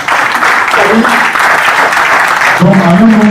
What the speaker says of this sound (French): On va applaudir pour la dame.